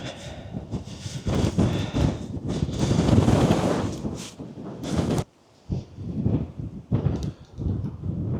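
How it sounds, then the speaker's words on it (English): Strong coastal wind near Dunnet Head buffets the microphone in loud, roaring gusts that drop out briefly, then return in shorter, uneven bursts. "This wind is something else."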